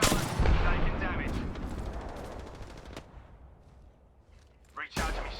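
Video game gunfire and explosions in Apex Legends: a heavy burst that decays over several seconds, with a few sharper shots and another loud blast near the end.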